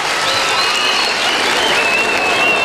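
A concert crowd at a show applauds loudly and continuously, dense clapping filling the hall with a few faint whistles rising above it.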